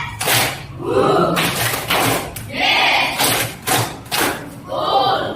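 Group clapping pattern during an academic supervision coaching session in Indonesia, with a series of loud, sharp claps in short bursts, the count rising across repeats, and voices calling between them.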